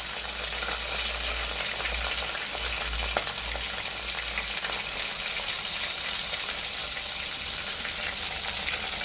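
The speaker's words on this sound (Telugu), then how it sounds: "ఉల్లిపాయలు లైట్ బ్రౌన్ కలర్లో, గోధుమ రంగు కలర్లో వచ్చేంత వరకు వేడి చేద్దాం" Onions frying with curry leaves and turmeric, a steady, close, continuous sizzle that holds without break throughout.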